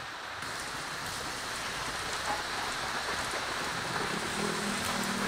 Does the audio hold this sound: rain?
yes